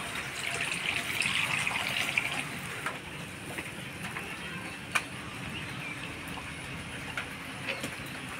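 Cut fish being washed in water in a village kitchen, soft splashing and sloshing that is busiest early on and settles into quieter swishes, with a single sharp knock partway through.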